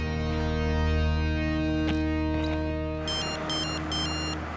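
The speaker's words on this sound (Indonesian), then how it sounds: "Tunggu, Pak. Ada telepon." A telephone rings with an electronic ringtone, a repeating pattern of bright tones that starts partway through over a steady hum and background noise, fairly close and clear.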